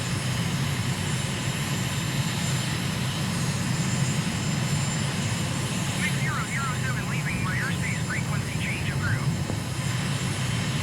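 Steady aircraft engine drone during a climb in Microsoft Flight Simulator, with the flight near Abu Dhabi, United Arab Emirates, continuous and fairly loud throughout while a voice talks over it.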